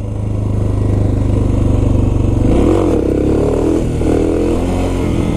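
A Suzuki DR650 motorcycle engine pulls hard in second gear during a wheelie, a loud, close, steady throaty drone that swells and shifts pitch midway as the throttle is worked, with no voices over it.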